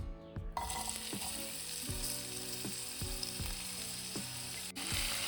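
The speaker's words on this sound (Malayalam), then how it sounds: "ഇതിലേക്ക് നമുക്ക് 1/2 കപ്പ് ചെറിയുള്ളി മുറിച്ച് വെച്ചത് ചേർത്ത് കൊടുക്കാം" Chopped shallots dropped into hot coconut oil for a Kerala beef fry, a loud steady sizzle with a sudden burst at the start and faint rhythmic stirring scrapes beneath.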